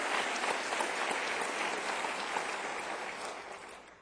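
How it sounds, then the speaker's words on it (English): An audience at a college chancellor's opening session applauds and cheers in a dense, sustained wash of clapping that gradually fades toward the end. "You've got a cheering section, Kim."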